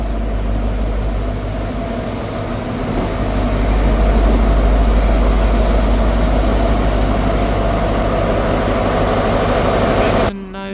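A train headed by locomotive 43034 departs Dundee station with a steady, loud low diesel drone that swells slightly midway, then cuts off abruptly at the end.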